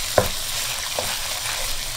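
Ingredients for a Persian eggplant stew sauté in a pan, giving a steady soft sizzle with a few stirring scrapes, no voices.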